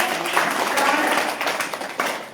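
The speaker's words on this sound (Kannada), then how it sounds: "ಒಳ್ಳೆ ಚಪ್ಪಾಳೆ." Schoolchildren in a classroom give a round of applause: a dense, continuous patter of clapping at moderate loudness that tails off toward the end, with faint voices mixed in.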